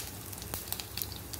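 Asafoetida dropped into hot oil with mustard and fenugreek seeds for a tempering gives a brief, soft sizzle with a few faint crackles.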